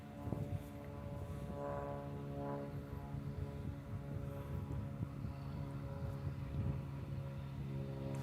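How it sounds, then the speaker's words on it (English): An airplane passes near an airport on a warm day, heard as a steady, low droning engine hum that stays fairly faint and distant throughout, with no talking. "You can hear the airplane."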